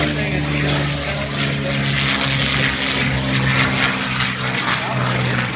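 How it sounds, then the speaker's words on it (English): A P-51 Mustang with an Allison engine flies past at an air show, its propeller engine roaring loud and steady throughout with a droning, slightly fluctuating tone. "And another Mustang, but we were talking about the Allison engines"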